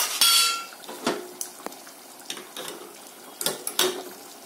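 Metal lid set onto a cooking pot of kanda pulusu, a yam tamarind stew, giving a few sharp clinks and light clatters close by, with scattered small kitchen knocks and no talk.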